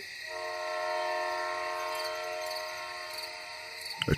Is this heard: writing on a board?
no